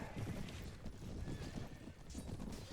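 Cavalry horses charge across a medieval battlefield in the game Mount & Blade, a dense low thunder of hooves and clashing with a faint whinny, steady and fairly quiet under the battle din.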